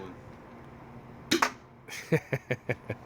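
A Nerf Mega Hotshock blaster, being fitted with half-inch CPVC for an Elite dart mod, fires a dart with a sharp double pop, then a quick rhythmic series of lighter clicks and snaps, close and clear.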